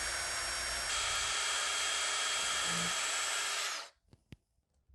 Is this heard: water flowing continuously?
no